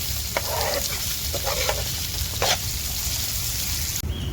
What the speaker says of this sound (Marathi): कांदा ना लाल होऊस तर मी परतून घेणार आहे